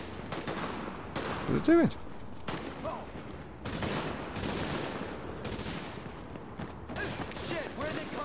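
Bursts of gunfire from The Division crackle in irregular volleys and rapid automatic strings, with people talking in between and over the shots.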